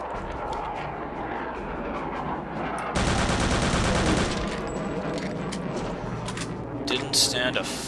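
An MP40 submachine gun fires in Return to Castle Wolfenstein, with a dense rapid burst of shots lasting about a second amid ongoing game noise and scattered gunfire elsewhere.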